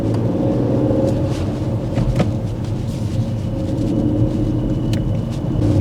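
Car moving off during a driving lesson, a steady low engine rumble and road noise from inside the cabin, continuous and moderately loud with no talk.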